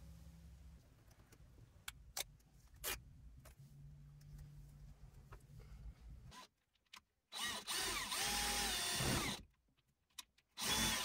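A power drill driving screws to mount a Renogy dual input DC to DC battery charger on a wall, with quiet ticking handling before and a loud sustained whir mid-clip, then a final short burst after a pause.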